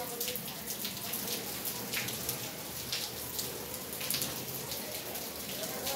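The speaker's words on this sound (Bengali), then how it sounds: "এইখানেই বৃষ্টি শুরু হয়েছে" Rain falling steadily, a dense hiss of drops pattering on surfaces, close and continuous, with faint voices in the background.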